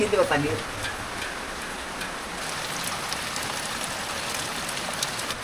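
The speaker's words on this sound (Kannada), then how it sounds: "ಮಳೆ ಜೋರಾಯ್ತು ಮಳೆ" Heavy rain pours down steadily near a pond in an outdoor rural setting, a dense continuous hiss of drops hitting surfaces, fairly loud and unbroken throughout, with a brief voice heard at the start.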